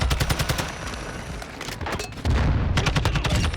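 Assault rifle gunfire in Modern Warfare 2, rapid automatic shots loud and close in two bursts, separated by a brief quieter gap with softer rattling.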